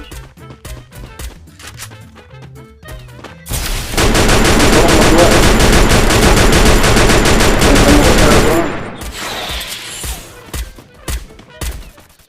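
Gunfire from the mobile battle game Free Fire erupts in a dense, loud burst of rapid automatic shots lasting several seconds, preceded and followed by sparser shots, with people talking in between.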